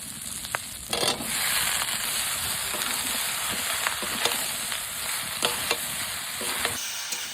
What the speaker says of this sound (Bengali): ঝিঙে দিয়ে একটু ভেজে নিলাম